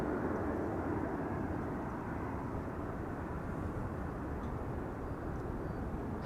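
An Airbus A380 airliner near Amsterdam Schiphol Airport produces a steady, broad, rumbling jet roar that holds at an even level throughout, with no voices.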